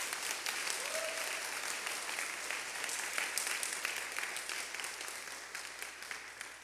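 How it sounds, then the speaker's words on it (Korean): Sustained applause from a church congregation welcoming a couple of walkers during a Friday worship service, steady and fairly loud throughout with dense clapping and no talk over it. "여러분 박수로 환영해 주십시오."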